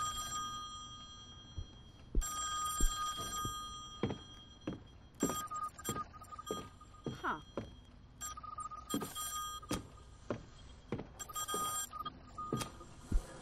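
An old-style telephone rings in a dark house in the horror game Song of Horror. Bursts of bell ringing repeat among scattered thuds and knocks at moderate distance.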